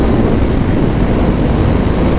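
Yamaha MT-01 motorcycle riding along a road, with a steady, loud broadband roar of engine and wind rushing continuously past the microphone and no voices.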